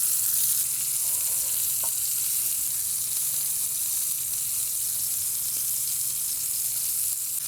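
Top sirloin steaks, cooked from frozen, sear in a hot pan with a loud, steady close sizzle and a few faint clicks, no voices.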